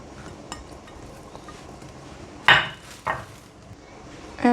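Beef shank pieces being set into the bottom of a dry pan with plenty of onions, making a few sharp, close clunks and clinks over quiet background handling.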